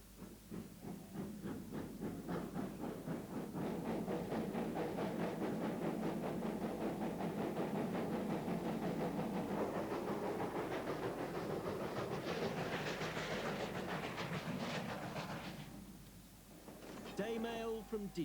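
A steam train carrying the day mail from Didcot passes on a heritage society railway, a loud, sustained rumble and rhythmic clatter of wheels that builds, holds steady, then fades away near the end.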